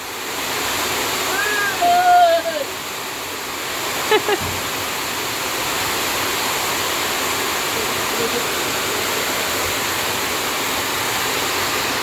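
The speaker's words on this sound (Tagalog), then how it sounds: "Grabe, lakas ng ulan guys." Steady downpour of heavy rain at a house being built, a constant close wash of water; a brief voice and a couple of short knocks surface early on beneath the roar.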